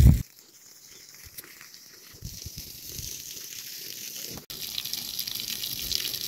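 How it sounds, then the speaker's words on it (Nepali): Water runs onto onion and garlic plants in a garden bed, a steady hissing, gushing flow that starts after a brief thump and continues evenly at moderate distance. "बुढोले पानी हालिराख्नु भएको छ"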